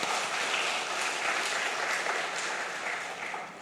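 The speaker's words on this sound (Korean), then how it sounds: "그런 의미에서 박수 한번 치자." A church congregation at Sunday worship in Pyeongtaek applauds together during a sermon, a full, even wash of clapping that holds steady and then starts to fade at the end.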